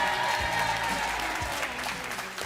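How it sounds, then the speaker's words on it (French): A TV game show studio audience applauds three contestants, a steady wash of clapping held at moderate level for the full stretch, with no talk over it. "Je voudrais qu'on applaudisse ces trois candidats."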